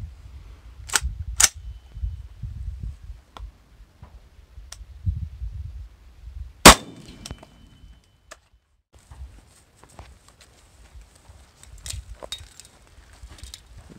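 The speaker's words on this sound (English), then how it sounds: "So we'll put our ceramic UHMW composite plate up here next and take a shot." .308 rifle with a 16-inch barrel fired at 20 feet into a ceramic UHMW composite armor plate: a single sharp, loud crack midway, with a couple of lighter snaps before it and faint scattered ticks and rustling after.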